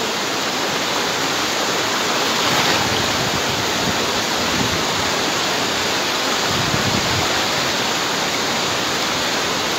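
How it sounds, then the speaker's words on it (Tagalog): A strong river current rushes in a dense, steady roar, loud and close, with no break or voices for the whole stretch. "Malakas nga po yung agos."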